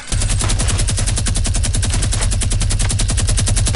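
Rapid automatic gunfire in Fortnite, a loud, steady stream of evenly spaced shots lasting several seconds with no talking.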